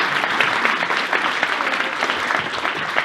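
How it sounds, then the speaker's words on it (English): Steady audience applause at a pinewood derby award ceremony fills the whole stretch, a dense wash of many hands clapping at even volume with no voices on top. "So let's give her a round of applause."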